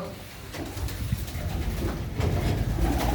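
Pigeons in a loft coo continuously at close range, layered over a dense murmur of background noise with no clear speech.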